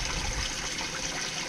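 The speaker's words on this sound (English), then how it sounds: "That water pumps up here, shoots the water down" A pump in an aquaponics setup spills a steady, splashing stream of water down into a koi fish tank, a continuous hiss of rushing water heard up close.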